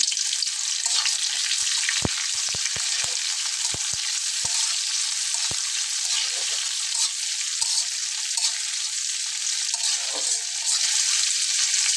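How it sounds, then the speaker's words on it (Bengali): Chopped onions, four of them cut into fairly large pieces, fry in hot oil for a fish curry with a steady, dense sizzle throughout. Sharp clicks of a spatula against the pan break in now and then. "পেঁয়াজগুলোকে দিয়ে পাঁচ সাত মিনিট একদম ভেজে নিতে হবে"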